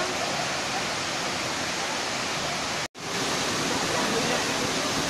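Broad, steady roar of the Banyumala Green Waterfall in Bali, a continuous rush of falling water filling the whole clip, with a brief cut to silence near the middle before the same roar resumes.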